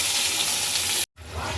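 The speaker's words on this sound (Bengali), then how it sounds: "এদিকে তো বসালাম মাছের সবজিটা ভাজতে, আলু আর পটলটা ভালো করে ভাজা হয়ে গেলে মশলা দিয়ে কষিয়ে নেব" Potato and pointed gourd pieces frying in oil in a pan, a steady close sizzle that cuts out briefly to silence near the end before resuming.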